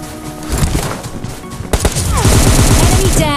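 Rapid automatic gunfire in the battle-royale shooter PUBG Lite, dense bursts of shots stacking into a loud continuous fusillade that grows stronger toward the end, with game sounds mixed in.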